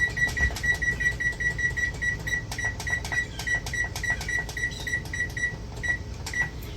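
An oven timer being set while baking keto hot dog buns, giving a steady run of short, evenly spaced beeps over a low hum of kitchen noise. No one speaks.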